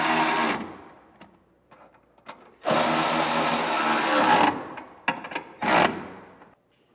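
Nuts are tightened with a ratcheting tool while Air Lift LoadLifter 5000 Ultimate air helper springs are fitted to a 2020 GMC, heard as several short, close mechanical whirring bursts separated by quiet gaps.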